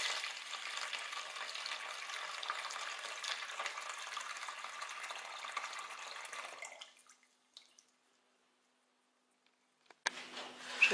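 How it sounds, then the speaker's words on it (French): Water pours steadily into a bowl of coarse salt in a continuous splashing rush for several seconds, then stops. Near silence follows, with a brief clatter at the very end. "Je verse de l'eau pour le faire dissoudre."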